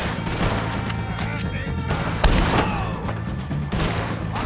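Rapid gunfire crackles through a Red Dead Redemption 2 shootout with the O'Driscoll gang, with dense overlapping shots and a heavier thump near the middle, sustained and loud with no clear talking.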